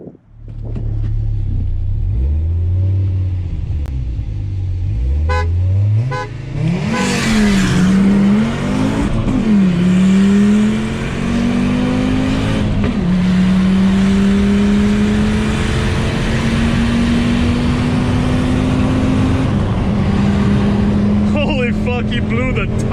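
Audi UrS4 and Dodge Challenger R/T drag racing: loud engines rev and accelerate hard through rising gear pulls, with a sustained roar and rumble throughout and excited voices talking over it.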